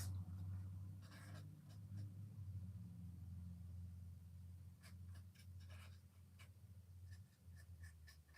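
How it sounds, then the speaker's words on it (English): Heavy trucks rumbling past outside, a steady low drone that stays loud throughout, with faint scratching and small indoor sounds over it and no talking. "Ooh, loud trucks."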